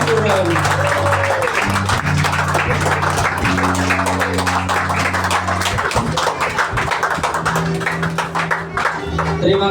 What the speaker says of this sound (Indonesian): marilah kita berdiri dan memberikan tepukan yang gemuruh buat warga emas jiran Sunduron